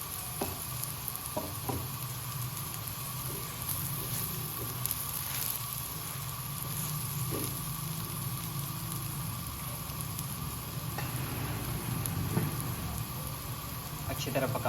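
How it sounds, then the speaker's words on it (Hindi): Cauliflower paratha frying in ghee on a pan, a steady close sizzle throughout with light stirring and scraping sounds, under someone speaking. "अब इसके ऊपर घी डाल दें।"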